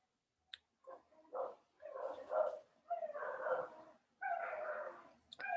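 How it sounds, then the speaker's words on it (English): Several dogs bark, yip and whimper in a neighborhood, in irregular bursts of medium loudness that come at a slight distance, with no talk over them. "there's some kind of dogs loose in my neighborhood, and all the dogs are going crazy"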